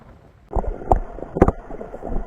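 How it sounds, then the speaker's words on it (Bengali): Small boat carrying snorkelers between spots off a Mexican island, with low engine rumble, wind buffeting and splashing water knocking against the hull in irregular bursts, close and moderately loud. "আমরা আবার উঠে পড়েছি বোটে আর একটা জায়গায় আমাদের নিয়ে যাচ্ছে"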